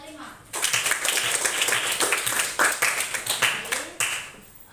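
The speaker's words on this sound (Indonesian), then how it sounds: "Tepuk tangan untuk kelompok 5." Ninth-grade classroom applause for a group: after a brief quiet start, many children clap in a loud, ragged burst with rhythmic accents, while young voices chatter faintly underneath.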